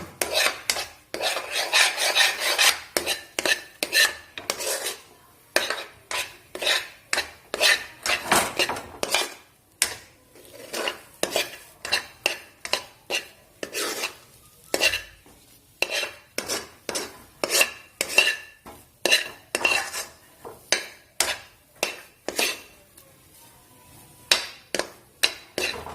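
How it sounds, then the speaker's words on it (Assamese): A utensil scrapes and stirs a milk powder mixture frying in a pan over medium-low heat for lal mohan sweets. Rhythmic, close metallic strokes repeat roughly twice a second with brief pauses, and nobody talks. "আপোনালোকে লৰাই থাকিব, জুইও কম দিব, মধ্যমীয়াত ভাজিব"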